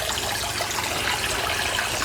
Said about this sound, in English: get our waterfalls going on in here